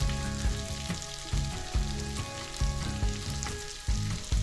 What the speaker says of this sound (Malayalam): ഇവിടെ എണ്ണ ചൂടാവുന്നുണ്ട്